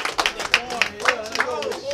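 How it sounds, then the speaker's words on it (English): Crowd at a Battle Coliseum rap battle claps loosely, with scattered overlapping hand claps at close range and rough crowd noise beneath. "Clap it up!"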